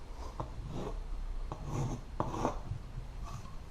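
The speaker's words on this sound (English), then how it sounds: "Then we're going to trace around it with a pencil." A pencil scratches quietly as it traces around a drywall patch piece set over a hole, with short stroking rasps and a few light taps close by.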